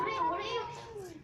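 A pet cat gives a long, drawn-out, oddly wavering meow that slides downward in pitch, loud and close, with the sound continuing steadily for over a second.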